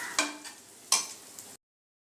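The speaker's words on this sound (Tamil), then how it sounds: "ஸ்பூன் பிரியாணி மசாலா, இதெல்லாம் சேர்த்து நல்லா கலந்து விட்டுக்கலாம்" A prawn biryani masala mixture stirred in a pan, giving two distinct scraping strokes over a soft sizzle, heard close up with no speech, before the sound cuts to silence.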